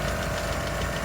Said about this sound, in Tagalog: ayan pala yung makina niya